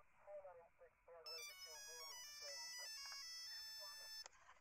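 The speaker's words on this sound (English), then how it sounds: "Oh, wait, phone." A telephone rings inside a VRChat escape room game, with a bright electronic trill that starts after a moment of talk and keeps going steadily for about three seconds before cutting off abruptly.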